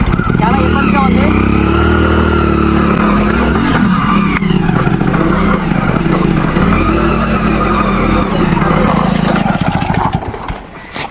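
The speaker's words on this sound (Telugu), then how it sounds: "మొత్తానికైతే నా బైక్ ఎక్కేటట్లేదు, చాలా కష్టంగా ఉంది." A motorcycle engine labours loudly and continuously as it struggles up a steep road to a village temple, revving unevenly with rattles and strain, close up, while a voice is heard over it.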